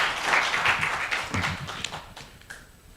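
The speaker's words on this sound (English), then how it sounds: "We can give a hearty clap to Sylvia." Audience clapping for a presenter at an evolutionary genomics symposium, a short burst of many hands that peaks early and then thins to a few scattered claps, in a room, with no voices over it.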